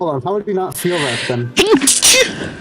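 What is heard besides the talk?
sneeze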